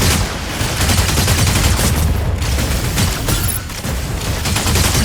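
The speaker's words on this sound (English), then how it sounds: "Continue to attack with battle halberd and gauss cannons." Gauss cannons fire in the mech combat video game Mecha Break, producing a loud, dense barrage of rapid shots and booms that continues throughout with no voices.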